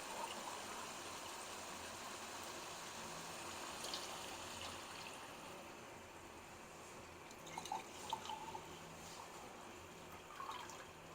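Water is poured into a pot of vegetables for one-pot Mexican rice, giving a faint, steady trickling and splashing with a few brighter drips toward the end, with no talking.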